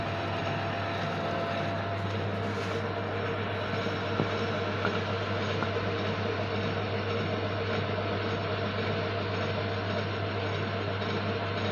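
A vintage screw-cutting lathe runs with its lead screw and feed screw turning, giving a steady mechanical hum with soft rattling and clicking throughout, close and even, with no talking.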